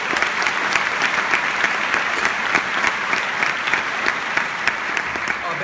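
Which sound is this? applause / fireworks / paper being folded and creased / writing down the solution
applause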